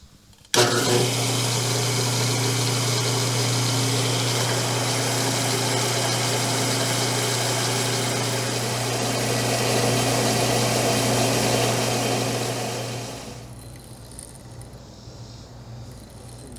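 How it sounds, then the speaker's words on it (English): A machine tool drilling steel with a long center drill whirs in steadily with a sudden start, holding a constant hum and hiss for several seconds before winding down and fading. "I knew this long center drill would come in handy for something."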